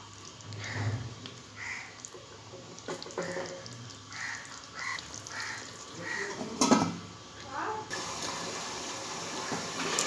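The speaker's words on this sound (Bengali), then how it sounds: "এটা আমি 5 মিনিট চাপা দিয়ে ফুটিয়ে নেব।" Egg curry simmering under a lid in a pan, hotel-style: a steady, soft, watery bubbling with faint hiss and a few light clinks, continuous for about ten seconds with no talking.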